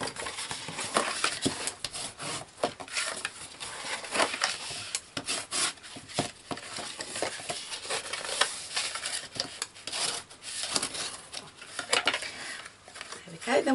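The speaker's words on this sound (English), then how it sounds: "we can just burnish all of our score lines, which will give us a nice crisp finish to our bag" Repeated rubbing and scraping of a burnishing tool along score lines on a paper gift bag, close and fairly crisp, in short strokes with brief pauses between passes.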